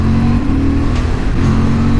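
A 2023 Honda Hornet 750 motorcycle engine revs and pulls hard under acceleration, a steady loud, close mid-pitched drone with a slight dip and rise in pitch partway through.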